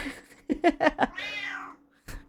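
A domestic cat meows several times in quick succession at close range, loud and distinct, then gives one short meow after a pause, with faint background sound between.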